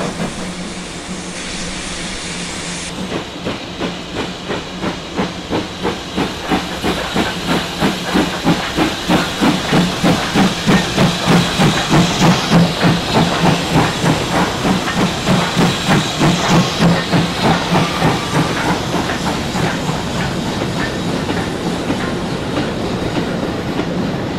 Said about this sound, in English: After a crew change at the shed, the Birkenhead 9Fs restarted.